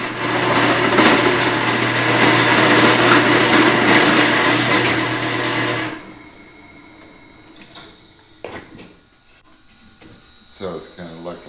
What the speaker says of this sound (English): I like the drill because it leaves a nice cove in the corner.